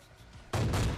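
A single heavy AWM sniper rifle shot in PUBG Mobile bursts in loud and close, ringing out after quieter ambient game sound.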